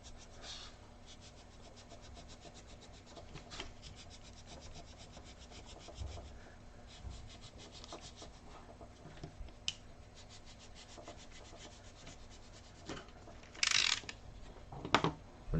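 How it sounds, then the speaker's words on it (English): Knife or rasp trimming and beveling the edge of a foam helmet earpiece for a Mandalorian armorer helmet, a steady close scraping and rubbing with brief sharper cuts near the end, no talking. "just kind of go around the edge and trim off some of the material"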